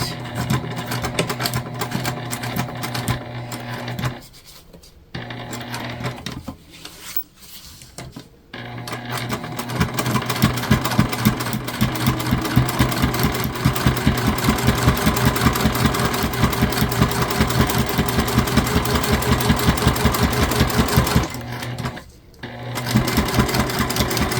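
A sewing machine bastes around the edge of a crossbody bag, running in long steady stitching bursts with a few short pauses between runs, close and loud, while a person talks over the motor.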